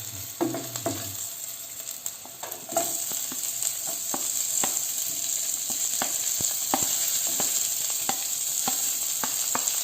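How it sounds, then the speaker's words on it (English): Sliced onions sizzle and fry in a pan with garlic cloves and finely chopped ginger, a steady close hiss broken by occasional stirring clatter. "Now we need to add our sliced onions."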